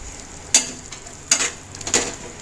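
A spoon scrapes and clinks against a pan three times amid a soft background hiss of a dried anchovy curry cooking, with quiet pauses between the stirs.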